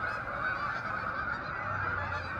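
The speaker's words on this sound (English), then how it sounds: "this looks like a uniform flock of Canada geese, but there's an additional species here, the cackling goose" A mixed flock of Canada geese and cackling geese honks continuously at a park during migration, a dense, overlapping chorus of calls at steady volume throughout with no pauses.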